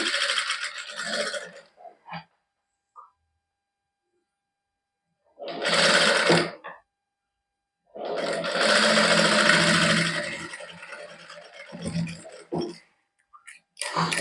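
A domestic sewing machine stitching the hem of a shirt (kameez) runs in several short bursts with pauses between them, loud and close, whirring steadily during each run.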